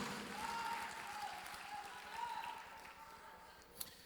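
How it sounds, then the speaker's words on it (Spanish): A church congregation applauds together during a Spanish-language service, the clapping fairly faint and steady, with a voice calling out over it. "dale un aplauso a Dios, iglesia"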